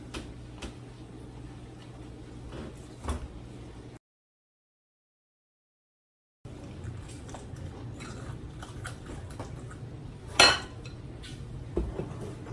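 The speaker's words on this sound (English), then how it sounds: "And then we're going to mix." A spoon scrapes and clinks against a dish while chicken bacon ranch casserole ingredients with cream cheese and shredded cheese are stirred together, soft rhythmic knocks broken by a brief silent gap and one louder clatter.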